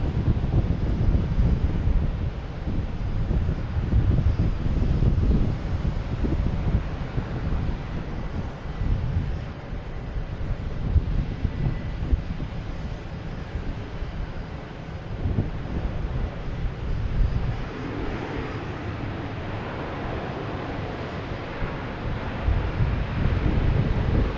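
Icelandair airliner passing at Boston's Logan Airport, a broad steady low roar with wind buffeting the microphone, sustained and fairly loud throughout with no talking.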